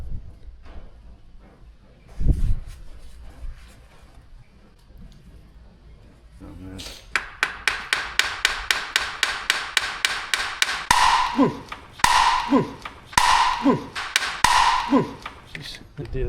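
People talk at first, then a steady, rapid series of hammer blows on a chisel against metal begins, later turning into heavier strikes that ring like metal.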